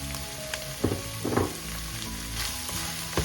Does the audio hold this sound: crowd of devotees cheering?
no